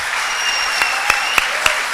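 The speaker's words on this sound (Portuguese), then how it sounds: "dê um forte aplauso ao Senhor" A congregation applauds at a church service, a dense, steady wash of clapping with a few sharper claps standing out, loud and continuous throughout.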